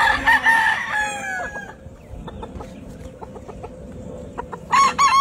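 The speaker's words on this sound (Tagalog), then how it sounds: "So madali lang magpaligo ng manok." A rooster crows loudly, then soft clucking and chicken calls follow, ending with another burst of crowing, while a chicken is being bathed.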